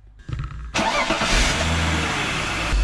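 A BMW E46 wagon engine turns over and catches, then settles into a steady, loud idle with a low rumble and no voices.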